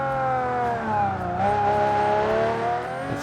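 A supercharged V12 swapped into a BMW Z3 revs in a racing game on the Nordschleife, its pitch wavering and dipping then climbing again, loud and close, with no voices heard.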